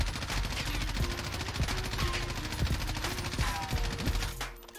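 An M4 assault rifle fires in rapid automatic bursts in Call of Duty Warzone, a dense crackling rattle of shots that carries on without pause, with no talk.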